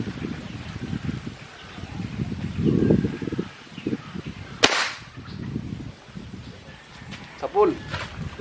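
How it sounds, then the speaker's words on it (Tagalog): Single sharp crack of a PCP air rifle fired outdoors with the silencer removed, a sudden loud snap midway between quiet rustling and low handling noise. "Para marinig niyo yung putok."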